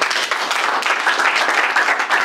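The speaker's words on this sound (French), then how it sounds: "Est-ce qu'on peut applaudir pour elle?" An audience at an entrepreneurship fair applauds with dense, steady clapping, close and loud throughout.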